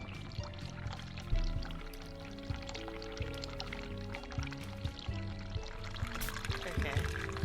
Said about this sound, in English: turn on the hot water and use the soap and the hot water to make it lather